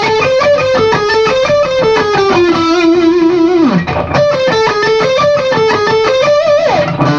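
A distorted electric guitar plays a fast shred metal lick in fluid runs that rise and fall, loud and alone, with a short dip in the middle before the phrase repeats.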